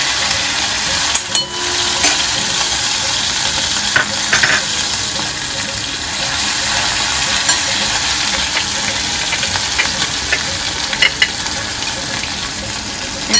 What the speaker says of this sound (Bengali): এবার এটা মিক্সটা ঢেলে দেওয়া হচ্ছে।